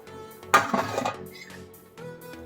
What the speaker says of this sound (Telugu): ఇప్పుడు స్టవ్ ఆఫ్ చేసుకుని మూత పెట్టేసుకుందాం